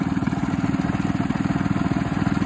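Coleman minibike engines, a 196 and a 223, racing: steady, close, loud single-cylinder putter with a rapid even pulse, no talking.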